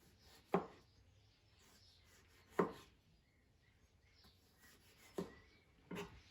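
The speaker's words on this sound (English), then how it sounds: "the acid test for a sharp knife, or a test of knife sharpness, is non-serrated knife on an overripe tomato" A sharpened, non-serrated kitchen knife slices through an overripe tomato, four crisp, separate cuts spaced a couple of seconds apart, close and fairly quiet against a hushed room.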